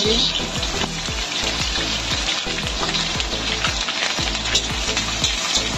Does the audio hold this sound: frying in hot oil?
yes